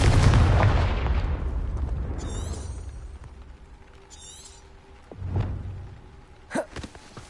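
In the video game Hogwarts Legacy, a Confringo blasting spell sets off a loud, close explosion that rumbles and slowly fades, followed a few seconds later by two shorter, sharper blasts.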